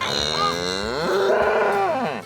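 A cow at a fairground lets out a long, loud, drawn-out moo with rising and falling pitch, close by and filling the whole moment with no talk over it.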